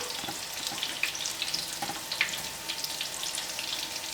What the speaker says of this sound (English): You want to cook these until they're golden brown.